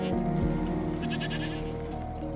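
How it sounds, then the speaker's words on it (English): Goats bleat in a pasture in the video game Endzone: A World Apart, with a busy steady game soundscape of music and ambience running underneath the animal calls. "So we have 5 goats out of 7 in the pasture."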